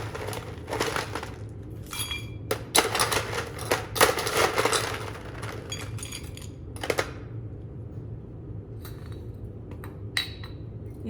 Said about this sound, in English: We're using a double rocks glass, so we want to fill this